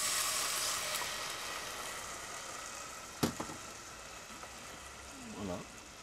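Red wine hisses and sizzles steadily in a hot pan of sweated shallots for a Beaujolais-style saucisson dish, a soft continuous frying rush with a few clinks and stirring scrapes.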